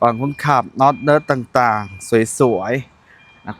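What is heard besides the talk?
No everyday noises stand out.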